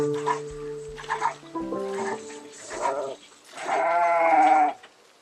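Several sheep bleat one after another in the video game Project Zomboid, wavering nasal calls with short gaps, ending in a longer, louder bleat.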